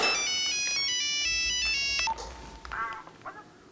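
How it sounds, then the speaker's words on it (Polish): A phone rings with a melodic electronic ringtone for about two seconds, then falls quiet, leaving soft room noise and a few faint chirpy sounds. "A, dzwonią do mnie z YouTube'a."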